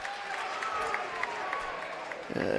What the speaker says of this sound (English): Valliant crowd does not like it. The Rattan crowd loves it.